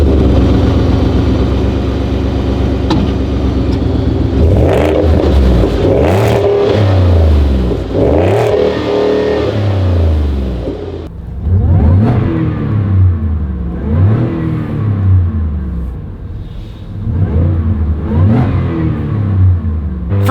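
A 650hp Roush F150 pickup's engine and exhaust rev hard several times, loud and close, with deep rising and falling swells over a rumbling idle between blips and no speech.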